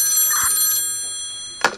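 A telephone bell rings loudly and close with a bright metallic trill, then pauses before a second ring begins.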